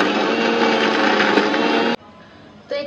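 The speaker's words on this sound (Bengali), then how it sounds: "ব্লেন্ডারটা বসাই দিছি, এখন হচ্ছে আমি চালাই দেব" An electric blender mincing chicken meat roars loudly at close range for about two seconds, cuts off abruptly, then briefly starts up again.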